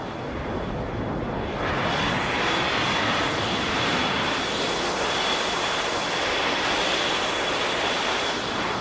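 Synthesized airplane flyover whoosh built from pitched noise, a loud, steady roaring hiss that swells and shifts slightly in tone as if passing, sustained throughout with no speech.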